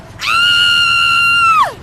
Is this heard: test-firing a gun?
no